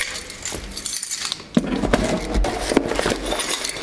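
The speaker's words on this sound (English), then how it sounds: "broken glass bottle is what that is" Glass from a broken bottle clinks and rattles alongside jangling keys, with scraping and crunching close by in a steady, busy stream of clicks.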